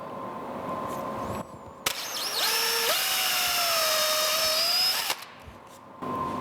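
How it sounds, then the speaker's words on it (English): Power drill boring pilot holes in wood for a quilt rack's horizontal supports: a single sustained whine of about three seconds that ramps up in pitch, then holds steady and loud before cutting off, with quiet workshop ambience on either side. "By drilling all the pilot holes,"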